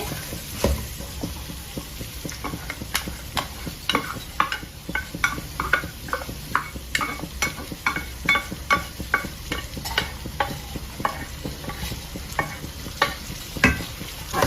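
Boiled carrots, beans and their cooking water go into a hot tempering for ottu shavige in a pan, with a steady sizzle under a string of sharp, rhythmic spoon scrapes and clinks against the metal.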